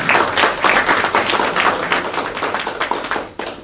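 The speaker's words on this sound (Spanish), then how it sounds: "Un aplauso para Julio Gómez." Audience applause at a poetry concert, brisk, fairly close clapping from a modest crowd with individual claps audible, tapering off toward the end.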